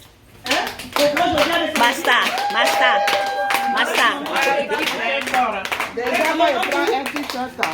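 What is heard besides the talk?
audience clapping for the team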